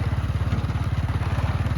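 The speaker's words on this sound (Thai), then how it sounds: "รถไถครับรถไถเดินตาม รถไถเดินตามสมัยเก่านะครับ" An old walking tractor's small single-cylinder engine chugs steadily up close, a fast, even putt-putt rhythm with no voices.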